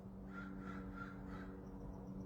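Crows caw in a short series of four or so evenly spaced harsh calls, faint and distant over a low steady background hum.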